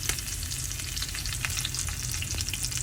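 Cashews and curry leaves fry in hot oil for a crunchy spiced cornflakes mixture, making a loud, dense, continuous crackling sizzle close by with sharp pops, no voices.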